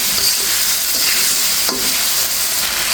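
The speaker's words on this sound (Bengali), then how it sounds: "ভেজে রাখা মাছটা দিয়েও একটু কষিয়ে নিচ্ছি" Fried snakehead fish being stirred into a spicy masala in hot oil, giving a steady, loud, close sizzle with a faint scrape of the spoon against the pan partway through.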